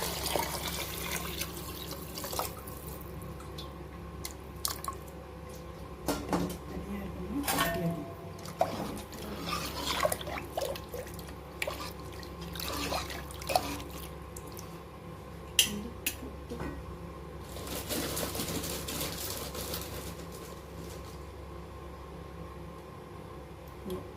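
Water runs and splashes into a cooking pot of Tamil-style kuzhambu with green chillies and spice powder, a continuous liquid pour with clinks of the vessel and a few louder splashy bursts throughout.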